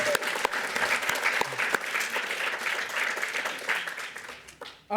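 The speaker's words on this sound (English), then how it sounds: "Can we have one more round of applause for all of them?" An audience at a community Unity Day event applauds award recipients, a loud, dense wash of clapping that carries steadily for several seconds before fading out.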